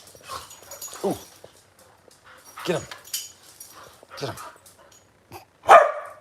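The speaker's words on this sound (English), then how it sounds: "Look, it's a puppy wrestling fest." Puppies wrestle at play, giving scattered yips, short barks and whimpers in bursts, the sharpest bark near the end, while a person talks over the scuffle.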